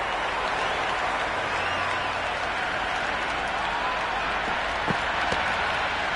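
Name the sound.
crowd cheering in a cricket video game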